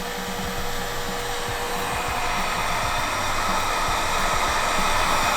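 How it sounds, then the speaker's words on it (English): A heat gun blows a steady, loud hiss of hot air at close range while melting solder onto car stereo wires, the whooshing drone holding even throughout without speech. "Don't forget, the end of that heat gun is still hot as the blazes and will burn the shit out of you."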